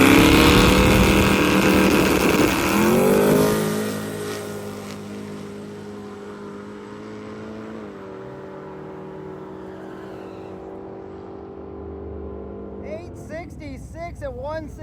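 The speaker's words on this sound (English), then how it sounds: "Now we got the old Isuzu truck coming up." An old Isuzu truck making a drag racing pass roars loudly at full throttle as it launches, then its engine note fades steadily into the distance, and a brief voice comes in near the end.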